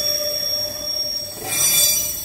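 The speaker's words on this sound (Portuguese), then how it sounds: "É um trem com locomotiva de bitola larga, C44I." Freight train hauled by a broad-gauge C44I locomotive with metre-gauge wagons, wheels squealing loudly and steadily against the rails, swelling in the latter part, with no voices.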